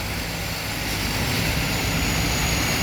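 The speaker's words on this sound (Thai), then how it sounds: "เร่งเครื่องนิดเดียวนะครับ" An air-conditioned-cab rice combine harvester engine revs slightly, producing a loud, steady, broad mechanical roar that holds throughout without talk.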